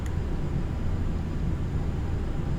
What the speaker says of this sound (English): I want to hear what the plane sounds like echoing off these mountains.